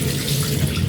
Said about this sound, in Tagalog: Hugasan lang natin ng maayos to.